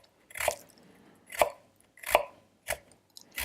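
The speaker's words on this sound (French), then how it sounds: "c'est coupé en assez fines lamelles. Et vous faites ça aussi bien pour le curcuma que pour le gingembre." Knife slicing fresh turmeric and ginger root into thin slices on a cutting board, five crisp separate cuts at an unhurried, even pace, close and clear with no talking.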